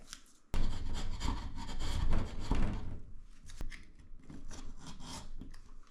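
Chisel scraping and rasping against wood while cutting a recess for a pocket door pull, a dense, steady run of close scraping strokes after a sharp start, easing slightly toward the end.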